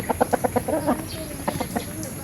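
A series of short, rhythmic clucks from a rooster nearby, about a dozen quick pulses with a brief pause partway, over a steady background hum.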